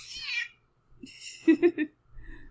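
A house cat meowing indoors, a few short high-pitched meows in quick succession, close and clear, with bits of a person's voice before and after.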